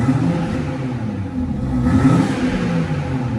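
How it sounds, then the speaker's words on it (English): A BMW 440i M Sport with an M Performance exhaust, still on a cold start, takes a brief, gentle rev. The engine rumble swells once, then settles back to a steady idle, close and with no talking. "I'm just going to give it a little rev."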